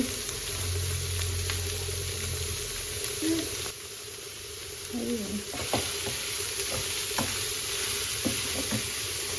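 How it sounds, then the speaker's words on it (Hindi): Chicken pieces sizzle steadily while frying with spices in a pan, with occasional clinks and scrapes of a spoon stirring close by. "चिकन को अच्छे से हमने 1-2 मिनट के लिए भुनाई कर दी है"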